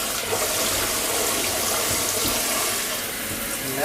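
Tap water runs steadily into a sink while produce is rinsed on a clean surface, a continuous broadband splashing hiss lasting throughout with no talk over it.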